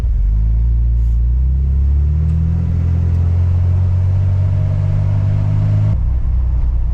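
A loud, low 80-horsepower Corvair engine drones steadily and revs gradually higher for several seconds, then cuts back abruptly near the end.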